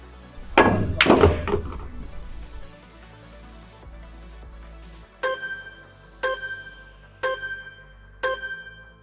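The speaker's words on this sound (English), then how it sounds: "I'm forced to hit high on the cue ball, so I selected a 2 cushion route toward the 2." Pool-carom shot on a billiard table: a burst of sharp cue and ball clacks early on, then four evenly spaced crisp, ringing ball strikes, close and clear with no talking.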